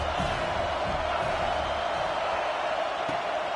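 Stadium crowd at a college football game between Tennessee and Purdue, a steady, dense roar of many voices with no distinct peaks, continuous for the whole stretch at moderate level.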